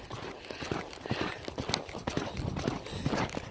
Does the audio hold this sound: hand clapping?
no